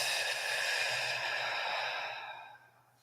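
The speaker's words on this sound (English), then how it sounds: "take 3 easy breaths down into your tummy" A long, relaxed exhale during a calming breathing exercise, a soft airy breath that holds steady and then fades out near the end, close and alone.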